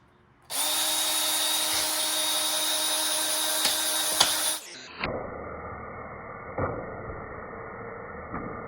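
A power drill runs loud and steady on a combat robot build, whining continuously for about four seconds before cutting out, then a quieter lower motor hum carries on with a few knocks.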